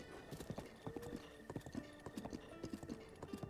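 Horse hooves clip-clopping in the Zelda Breath of the Wild video game, a steady trotting rhythm of crisp, even hoofbeats running throughout at moderate volume with faint background music.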